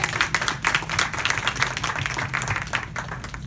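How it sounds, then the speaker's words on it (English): Audience applause at a community forum about a supermarket, a steady round of many hands clapping, fairly close and continuous for a few seconds with no talk over it. "I think we should give him a round of applause."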